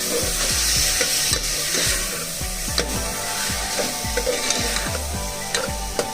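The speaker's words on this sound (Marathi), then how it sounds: "वाल आपण चांगले परतून घेतलेले आहेत" Broad beans (val) and potato crackle and sizzle in a pan, with a steady rhythm of spatula scrapes and knocks against the metal, close and loud.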